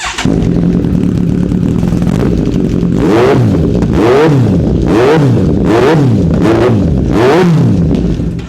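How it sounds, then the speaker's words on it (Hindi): A powerful superbike engine idles loudly up close, then revs repeatedly in sharp rising and falling bursts about once a second. "एंड बाइक की एक बार आपको आवाज़ सुनाते हैं।"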